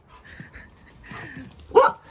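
Dogs in a garden give a few soft whimpers and yips, then one sharp, louder bark near the end, close by with no talk.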